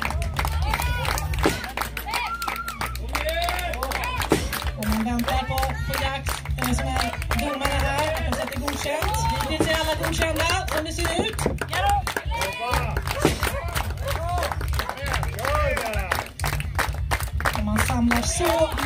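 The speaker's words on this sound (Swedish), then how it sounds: "Då kör vi lite publik här, lite applåder." Audience at a Swedish strongwoman national competition (under 82 kg class) claps and cheers steadily throughout, a dense crowd wash with a commentator talking over it.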